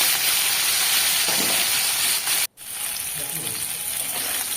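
Small charapona fish frying in hot oil, a loud steady hissing sizzle near the pan that drops out sharply for a moment, then resumes at a similar level.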